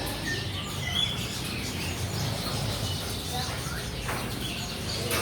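Birds chirp and tweet from cages at a bird kiosk in a market at Pamanukan, scattered bright calls over a busy background murmur, fairly close.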